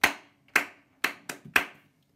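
Five sharp hand claps in a short rhythmic figure, two evenly spaced, then a quicker pair and a final clap, ringing with room echo in a classroom, no voices.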